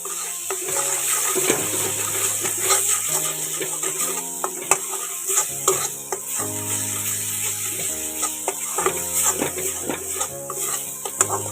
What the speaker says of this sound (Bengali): মশলাটা এখন দিয়ে একটু ভালো করে কষিয়ে নিচ্ছি